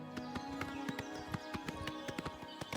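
Horse hooves clip-clop in a steady galloping rhythm in Oblivion Remastered, close and clear over a sustained musical drone with no talk.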